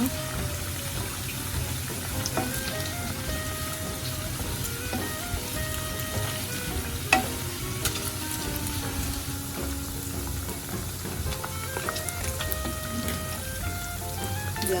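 Pork belly frying in hot oil, a steady dense sizzle with crackling pops that keeps up evenly throughout, close and fairly loud, with no one talking.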